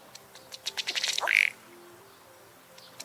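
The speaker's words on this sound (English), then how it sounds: "Here's a ruddy duck." A ruddy duck, played through a phone's voice assistant, gives a fast run of soft ticking and popping notes that build to a brief squeaky call, with a faint low background hum.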